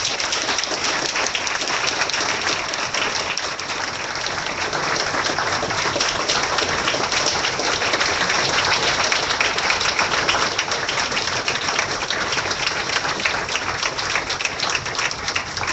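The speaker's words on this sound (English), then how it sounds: "Let's give her a round of applause." Audience at a civic association meeting applauds a guest speaker, the mayor of Irving; dense, sustained clapping fills the room steadily throughout, loud and continuous with no talk over it.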